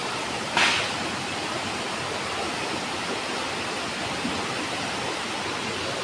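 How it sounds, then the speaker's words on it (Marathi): Water gushes down from above in a village, giving a loud, steady, broadband roar like a waterfall, with a brief splash or knock near the start. "पाण्याचा असा खळखळ आवाज ऐकायला ना मस्त वाटतं."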